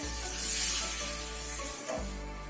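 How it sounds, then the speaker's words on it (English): Ground masala sizzling and hissing in a pan for prawn curry, a steady moderate fry with a stirring scrape, alone with no talk. "We will add the grinded masala."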